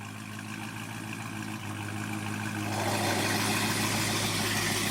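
A Dodge Hellcat with stock exhaust and a cat delete idles on its first start, a deep steady rumble that swells louder and rougher as the engine builds.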